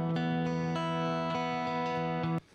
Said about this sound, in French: on entend quand même que la reverb est sympa